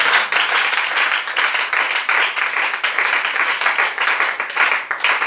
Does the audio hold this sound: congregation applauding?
yes